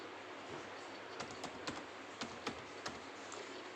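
An address being typed on a computer keyboard during an online 11th-grade admission form, a handful of light, quick key clicks in an uneven rhythm over a faint steady hiss.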